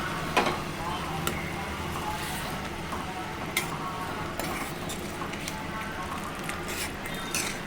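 A pot of drumstick stew bubbles at a steady simmer, a soft continuous gurgle with a few faint clinks of utensils now and then.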